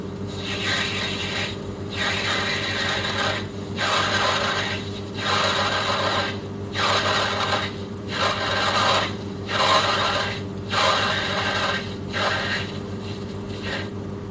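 A 90-year-old vintage metal lathe in a workshop turns a metal workpiece down, giving a continuous mechanical hum under rhythmic rasping cutting passes that swell and fade about every second or so.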